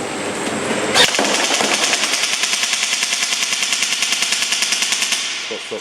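An electric BB gun fires a long rapid automatic burst after a sharp start, its steady mechanical rattle continuing for about four seconds, close and loud.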